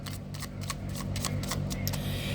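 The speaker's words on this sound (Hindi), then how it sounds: "Last shuffle." Tarot cards are riffled and shuffled in a quick, continuous run of crisp slapping flicks, close and fairly loud over a low steady hum.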